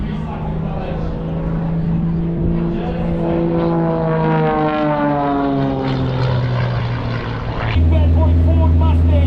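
Propeller airplane at an air show in Durban, its engine drone droning steadily at close range with a pitch that sweeps as it passes, under continuous talk, before a louder car engine takes over at the end.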